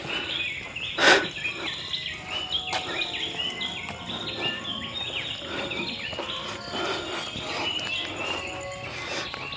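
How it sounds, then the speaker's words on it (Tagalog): A small bird sings loudly outdoors in a natural setting, its bright chirps and trills repeating continuously over a steady background of insects, with one louder burst early on. "Yun yung ibon, maliit lang pero ang ingay niyan."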